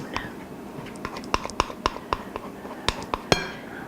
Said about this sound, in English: I would love to get in there with my spoon.